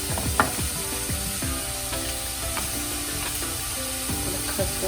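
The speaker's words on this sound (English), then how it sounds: "now I'm going to cut up the celery" A knife cuts through celery, giving a run of crisp, sharp snaps at an uneven rhythm, close and fairly clear against a faint steady hiss.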